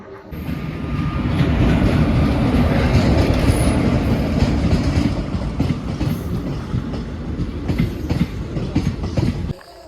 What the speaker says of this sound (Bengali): ট্রেন আসছে ফাইনালি হালকা হালকা লাইট দেখা যাচ্ছে না